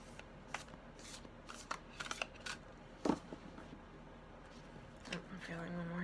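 A very large deck of cards being shuffled by hand, with repeated riffling bursts and soft snaps spread through the clip, mostly close and moderately loud, while a person talks at points.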